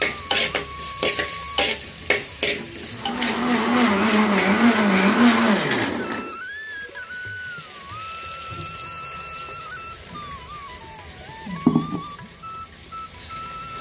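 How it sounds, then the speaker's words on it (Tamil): Onion and tomato sauté with rock salt in a pan: loud stirring scrapes and sizzling build up, then fade to a quieter background hiss with occasional clinks. "தக்காளி வெங்காயம் நல்லா வதங்கிடுச்சு."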